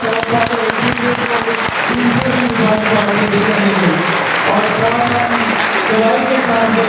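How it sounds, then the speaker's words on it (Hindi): A church congregation claps steadily and fully through an Easter night service, the dense applause running unbroken for about seven seconds, with voices carrying over it. "ताली बजाकर भरपूर"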